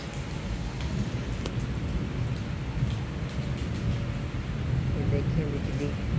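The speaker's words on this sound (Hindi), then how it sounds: "बहुत तेज़ बारिश हो रही है" Heavy rain pours steadily in Karachi, a dense, continuous hiss that holds at an even loudness throughout, heard from a terrace with someone talking over it.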